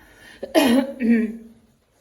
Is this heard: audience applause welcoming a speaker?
no